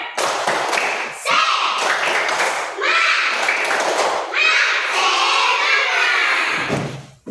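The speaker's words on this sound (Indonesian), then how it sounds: "Ayo, kita tepuk semangat dulu." A class of second-grade children does the 'tepuk semangat' spirit clap, a patterned rhythm of loud, close hand claps mixed with children's chanting voices, in several bursts that stop abruptly at the end.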